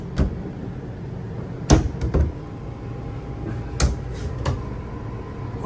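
A kitchen drawer in a 2026 Rockwood Signature 371RK fifth-wheel RV opens and closes, giving several short, close clunks and slides spaced a second or two apart against a quiet background.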